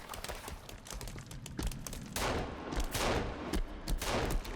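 Rapid bursts of pistol gunfire in the video game Sons of the Forest, several sharp shots in quick succession over a noisy in-game background, fairly loud and close.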